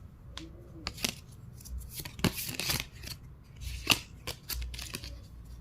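Oracle cards being shuffled by hand, soft papery riffles and flicks in irregular bursts, close and quiet, with no talk.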